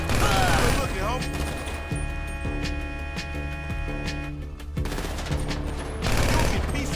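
Rapid automatic gunfire in Grand Theft Auto V, loud bursts of shots over engine drone and music, with some voices in the mix.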